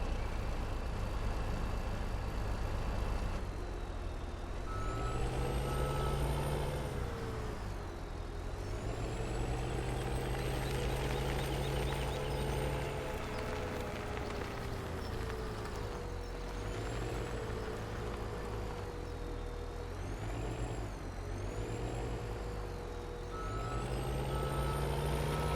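In the video game Farming Simulator 17, a truck with a manure trailer reverses with a repeated reversing beep over a steady engine drone, the engine pitch rising and falling as it maneuvers, with an air brake hiss.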